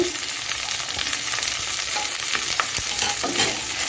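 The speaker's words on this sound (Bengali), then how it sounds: "এখন আমি গ্যাসটা মিডিয়ামে রেখে তিরিশ সেকেন্ডের মতো একটু ভেজে নিচ্ছি রসুন কাঁচা লঙ্কা দিয়ে পেঁয়াজটা" Chopped garlic and green chilli frying with golden-fried onion in a pan on medium heat, a loud, dense, continuous sizzle with occasional stirring scrapes up close.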